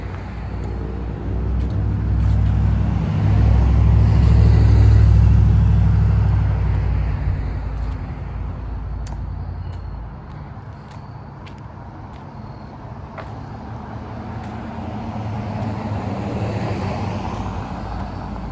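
Cars on a small-town road in McAdenville, North Carolina, pass close by a pedestrian, a deep rumble swelling and fading as one vehicle goes past, followed by quieter traffic hiss and another approach.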